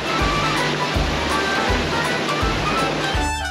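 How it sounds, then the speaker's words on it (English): Water pumping station at Kinderdijk moving water off the land, a loud, continuous rushing roar of churning water with a low rhythmic thump repeating about every 0.7 seconds. "This is now the more modern method of pumping water off the land."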